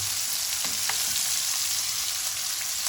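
Cioppino seafood searing in a hot pan, giving a loud, dense, continuous sizzle with a couple of faint utensil taps early on, no voices.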